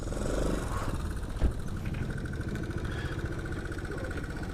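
Australian posty-bike Honda Cub 90 motorcycle engine idling steadily out of gear, a continuous low putter close by with one brief knock partway through.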